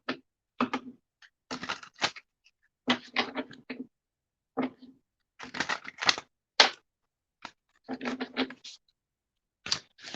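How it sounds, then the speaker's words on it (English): Tarot-style guidance cards shuffled and pulled from a deck during a live reading, heard as bursts of crisp, papery riffling and snapping clusters separated by short pauses, close and fairly loud with no talking. "let's pull some guidance cards for Libra"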